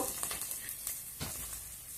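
Tempering spices and green chillies for gongura pulihora sizzle in hot oil over a low flame, a soft steady crackle with a few light stirring scrapes.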